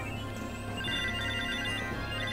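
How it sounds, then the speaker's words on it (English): Item pickup sound in Legend of Mana: a continuous shimmering chime of repeated bright tones over steady game music, collecting many items at once, with no talking. "that sweet sound of picking everything up all at once"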